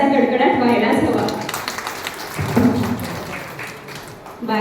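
A seated audience at a hosted stage event breaks into steady applause, a dense wash of clapping that runs the full length and tapers slightly near the end.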